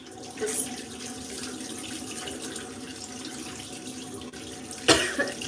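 Water runs steadily from a bathroom tap into a sink while cleanser is rinsed off a face, a soft continuous splash with a couple of louder splashes near the end.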